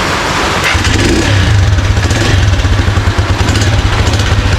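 A motorcycle engine close by, idling roughly and then revving up with a throbbing, pulsing low rumble that holds for several seconds, loud and alone without talk.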